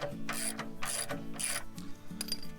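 Height of cut is set to half an inch on a Greens Master reel mower, producing clustered metallic ratchet clicks in uneven bursts, close and fairly quiet, with no talking.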